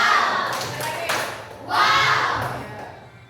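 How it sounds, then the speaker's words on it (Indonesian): Children clapping in a classroom in a few short bursts, with a rhythmic patting and thudding quality, a brief pause between bursts and light voices around them. "Tepuk tangan."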